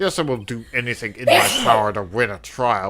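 A single sharp sneeze bursts out in the middle of a person reading dialogue aloud, with speech continuing on both sides of it.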